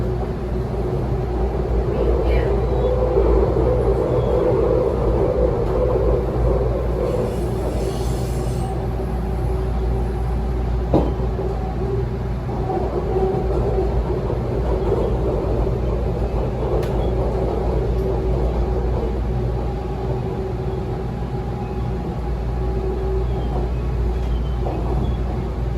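Inside a Tren Urbano metro train in Puerto Rico while it rolls between stations and meets a train running the other way. A constant loud rumble and hiss fill the car, broken by a single sharp clank partway through.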